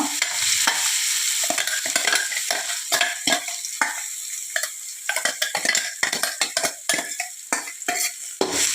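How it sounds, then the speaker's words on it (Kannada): Ground masala paste frying in oil with curry leaves for raw mango chitranna: a steady close sizzle broken by frequent scraping, clinking stir strokes of a spatula against the pan, with no talking. "ಇದನ್ನು ಚೆನ್ನಾಗಿ ಫ್ರೈ ಮಾಡುವ ಫ್ರೆಂಡ್ಸ್. ಸ್ವಲ್ಪ ಫ್ರೈ ಆಗಲಿ."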